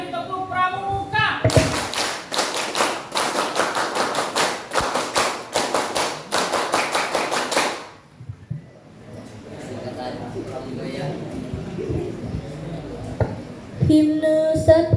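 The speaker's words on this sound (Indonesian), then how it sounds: "Dua kali tepuk pramuka." Scout clapping routine (tepuk pramuka) at an installation ceremony for district scout leaders in Long Ikis: a crowd claps loud, rapid, patterned sharp claps for about six seconds, then quieter murmur and talk follow.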